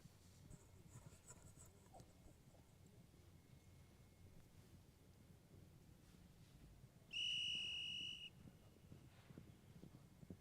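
A referee's whistle at an Open de France polo match between Talandracas and Shockemohle, one sharp, loud blast lasting about a second over steady outdoor field ambience.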